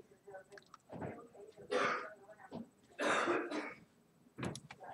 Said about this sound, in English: Silence that coughing.